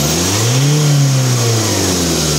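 A Ford Transit van with a clogged air filter and turbo trouble revs hard at full throttle, the engine note rising and then falling back, loud and close and steady throughout.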